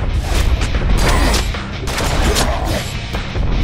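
A grenade detonates in the Deadpool video game, a loud, dense burst of booming blasts and crackling debris that rolls on for several seconds, close and filling the mix.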